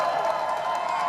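A large arena crowd at the Call of Duty Champs cheers and roars in a dense, continuous wash of sound, loud and sustained, for the Toronto Ultra side.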